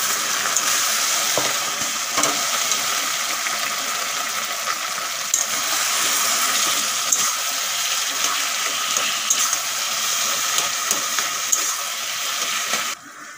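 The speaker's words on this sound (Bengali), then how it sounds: "চিংড়ি মাছ বেশি ভাজা করব না, এখন সিদ্ধ করা কচুর শাকগুলো ঢেলে দেবো।" Boiled taro leaves tipped into a pan of frying shrimp set off a loud, steady hiss of sizzling oil and steam that holds evenly for over twelve seconds before cutting off abruptly.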